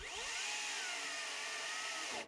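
An electric chainsaw cuts firewood, running loud and steady with its motor whine bending lower as the chain bogs down under hard pressure, then cutting out and stalling at the end.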